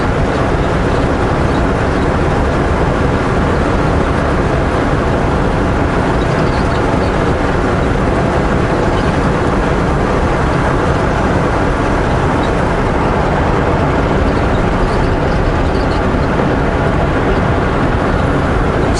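Steady, loud drone of a heavy truck's engine and road noise heard from inside the cab on a mountain highway near Okanagan Lake, rumbling unbroken throughout with no distinct gear change standing out.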